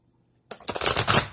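After a moment of near silence, a brisk, close riffle of an oracle card deck being shuffled, a dense papery flutter lasting under a second.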